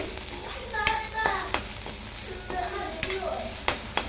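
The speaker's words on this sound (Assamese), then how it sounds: "অকণমান তেল দি এয়া পিঁয়াজ আৰু নহৰু জ্বালাখিনি অকণমান ভাজি লৈছোঁ।" Onion and garlic fry in a little oil in a wok, a steady sizzle broken by several sharp scrapes and clinks of a spatula stirring, close and clear with no talking.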